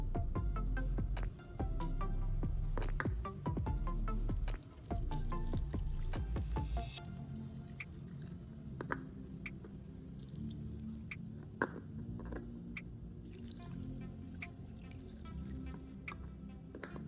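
Sulfuric acid electrolyte is poured into the six cells of a car battery, giving faint wet trickling, drips and small squishy clicks, with a louder continuous pour early on and then scattered quiet drips.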